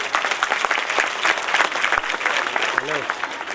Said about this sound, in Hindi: एक मरतबा तालियां जरूर हो जानी चाहिए